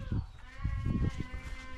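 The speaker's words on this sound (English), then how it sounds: "I hope you can probably hear the goats in here carrying on" Goats bleating and carrying on inside a barn during morning farm chores, several wavering calls overlapping at close range in a steady noisy chorus, with no talking.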